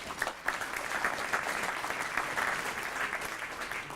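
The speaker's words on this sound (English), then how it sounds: "Let's give him one more round of applause." A room of members claps steadily at a Rotary club meeting in Charlotte, a dense, even round of applause at moderate volume with a few sharper claps standing out near the start.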